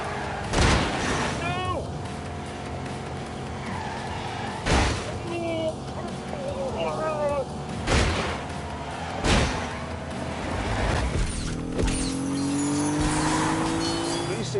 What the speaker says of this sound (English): V6 engine, 200 horsepower